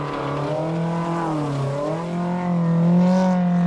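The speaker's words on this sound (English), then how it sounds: "It's a real struggle to get the BMW over the mountain." A BMW rally car on a mountain stage of the 1996 Donegal International Rally labours uphill. The engine drones and strains with shifting pitch, then swells louder toward the end.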